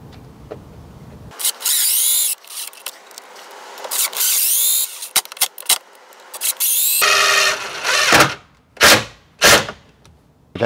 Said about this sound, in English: Finally, we're going to install the 3-inch screws.